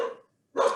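A dog barks indoors in a short double burst, two close, loud barks separated by a brief pause.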